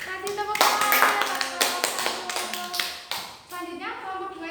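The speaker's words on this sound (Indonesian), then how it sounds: "Kasih tepuk tangan." Classroom applause breaks out in a group of students, a burst of hand clapping mixed with children's chatter and voices throughout.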